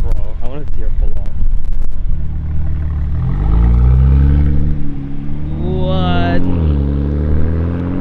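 A car pulling away, its engine rumbling low and rising in pitch as it accelerates, loud and close, with people talking over it.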